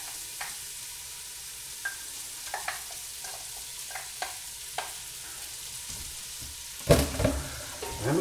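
Onions sauté in a pot for fish chowder, a soft sizzle broken by scattered spoon scrapes and stirring taps, then a louder burst of hissing near the end.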